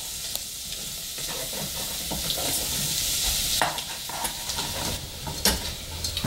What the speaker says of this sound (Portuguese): Eu vou colocar agora mais ou menos umas 100 gramas também de linguiça calabresa picadinha. Vou misturar. E vou deixar os dois agora terminar de fritar junto.